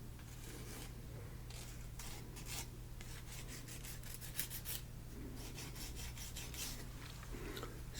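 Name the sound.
filing jagged edges off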